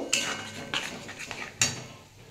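A spatula scrapes and clinks against a pan while spinach paste is stirred and sautéed for palong paneer, giving three sharp metallic knocks among softer scraping, close and with no talk.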